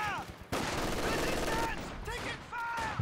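Machine gun fire in a Company of Heroes 2 battle, a dense crackling rattle of automatic bursts layered with whistling battlefield effects.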